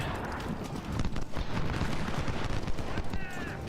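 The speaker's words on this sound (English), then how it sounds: "they're getting hit by a lot of artillery and all of our troops" Dense, continuous crackle of musket volleys and artillery rumble from a Civil War-style battle in the strategy game Ultimate General, steady and busy throughout with no clear single shots.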